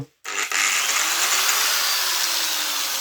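A small 220-volt, 1100-watt electric drill starts abruptly after a brief silence and then runs at a steady high-pitched whine, loud and close, with no talking.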